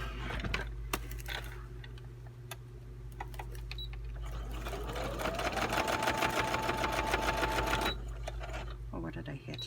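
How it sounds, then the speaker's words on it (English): A sewing machine stitches around the edges of a paper shaker journaling card with a rapid, steady needle chatter. The motor tone rises and holds partway through, and clicks and faint voices sound around it. "I think I will sew around the edges just to seal it"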